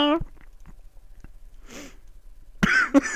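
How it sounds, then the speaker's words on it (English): A couple of sharp coughing bursts near the end, close and loud, after a stretch of quiet breathing and a brief voice. "you got me coughing"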